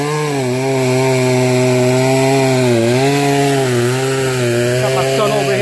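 Poulan Pro chainsaw fitted with a chisel chain cutting tree stumps flush, a loud continuous engine whine with a buzzing harmonic tone that dips slightly as the chain bites into the wood, close by.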